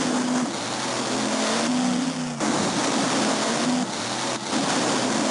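A synthetic-sounding monster truck engine from a Game Boy Advance game roars and revs in repeated surges, shifting pitch with each gear change, loud and continuous.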